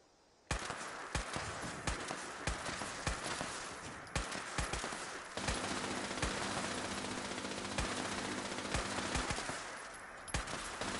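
A player fires at a turret inside an armory in Fallout 76, letting off a long, loud run of rapid shots with steady rhythm and sharp cracks, and no talking over it.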